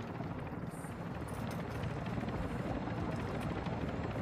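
Helicopter in the video game Warzone 2.0 DMZ: a steady low rotor drone and engine rumble at moderate loudness, held constant throughout with no talk over it.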